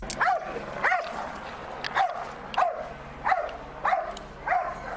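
A police K-9 dog barks repeatedly in the background, single sharp barks spaced about a second apart over a low steady hum.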